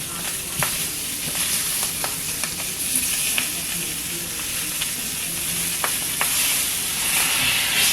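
Food cooking in a pan with a little water added to steam it for a meal-kit dinner, giving a constant close sizzle and hiss with occasional sharp pops and crackles throughout.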